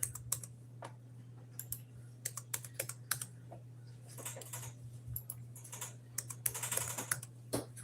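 Keys on a computer keyboard are tapped in irregular bursts of sharp clicks, some quick runs and some single presses, over a low steady hum in a quiet room.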